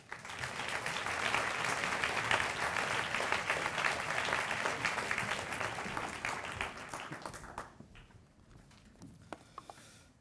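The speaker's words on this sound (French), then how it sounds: "je vous demande d'applaudir bien fort" A room full of people clapping steadily, sustained and fairly loud, then tapering off to scattered claps near the end.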